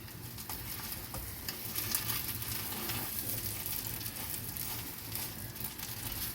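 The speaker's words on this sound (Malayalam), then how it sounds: "അതിൻ്റെ കൂടെ നെയ്യ് ബാക്കി നമ്മൾ വെച്ചിരുന്ന നെയ്യും കൂടെ ചേർത്ത് കൊടുക്കുകയാണ് ഇനി ഇത് നല്ലപോലെ ഇളക്കി" Kesari being stirred in a pan with ghee added, a steady close sizzle under continuous scraping stirs with no talking.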